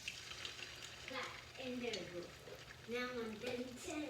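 Salmon croquette patties fry in grease with a quiet sizzle and stirring sounds, partly under someone talking.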